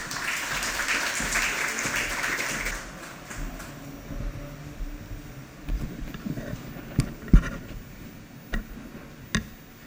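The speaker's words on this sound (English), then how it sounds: "Sous vos applaudissements, mesdames et messieurs, allez-y." Applause from an audience at a corporate first-anniversary event in Mauritius, fairly loud at first, then thinning into scattered claps and knocks.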